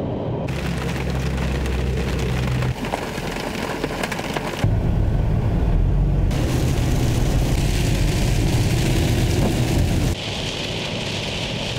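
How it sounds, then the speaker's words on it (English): Heavy rain pours steadily at a roadside camp spot, a dense, continuous close hiss and patter with a few shifts in intensity and no voices. "It's a little concerning on how hard it's raining"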